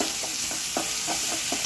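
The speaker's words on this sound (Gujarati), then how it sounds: "આપણું વેજીટેબલ થોડું સતળાઈ ગયું છે." Mixed vegetables stir-fried on a high flame for veg Hakka noodles, with a steady sizzle and about five short scraping stirs of a spatula against the pan, fairly close and with no voices.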